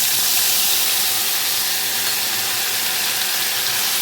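A paste of onion, ginger, green chili and garlic fries in hot oil, giving off a continuous, fairly loud hissing sizzle that holds steady from start to finish with no speech.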